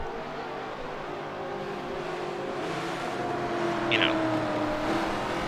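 Race cars rumble along together on a pace lap before a championship race, a steady broad engine drone with a faint tonal whine, a voice talking briefly over it.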